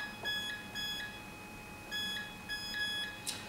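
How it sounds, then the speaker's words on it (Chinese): A Sentry electronic safe's keypad emits bright electronic beeps in short pairs, two clusters of rapid tones separated by a pause, close and clear over faint room hiss. "喺哔哔兩聲之後，你要即時輸入自己喜歡嘅"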